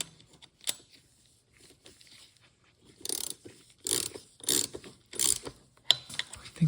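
A ratchet tightens a transmission mount during a BMW B48 engine swap into an E46, giving faint scattered clicks and then loud, close bursts of rapid ratcheting in quick repeated strokes.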